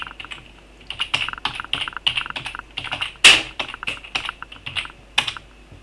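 Typing a username and password on a computer keyboard to log in to a college library system, with a run of quick, uneven keystrokes and one louder key press, close and clear with no talk.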